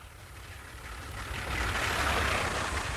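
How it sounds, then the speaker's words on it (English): A steam locomotive working hard while climbing a bank, its engine giving a Deltic-diesel-like sound: a dense, continuous roar that swells slightly louder partway through, close and steady with no talking. "when you're pushing the loco this hard, it sounds like a Deltic diesel"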